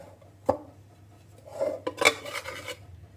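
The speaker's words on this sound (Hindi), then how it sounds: "चम्मच जो हैं उनकी की आवाज़ें जो हैं वो आना शुरू हो गई हैं" Metal spoons clank against pots and dishes while mixed sabzi, black chickpeas and rice are cooked in a home kitchen, giving a sharp knock followed by a burst of rattling and scraping clinks, nearby and moderately loud with no talking.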